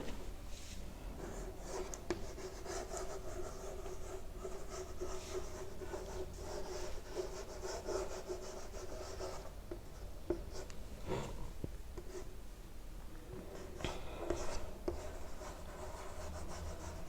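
Pen or chalk writing out a definition during a grammar lesson, continuous soft scratching and rubbing strokes with brief pauses, close and faint, with no talking.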